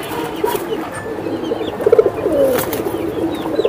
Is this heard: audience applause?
no